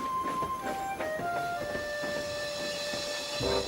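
A steam locomotive hisses and chuffs steadily, with a sustained whistle-like tone and a soft rhythmic pulse beneath it, and no voices over it.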